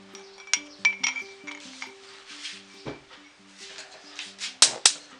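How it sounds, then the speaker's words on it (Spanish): A spoon clinks against a container while stirring gelatin into water, giving several sharp, irregular clinks and scrapes over soft background music. "Pongo la grenetina en el agua y voy a mezclar para que se hidrate."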